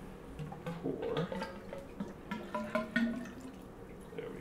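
Wine pours into a Riedel Eve crystal decanter, a gurgling, trickling stream with glassy resonant burbles, close and moderately loud.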